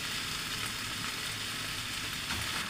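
Chicken pieces hitting a pan of cooking tomatoes give a loud, even sizzle that holds steady for the whole short stretch.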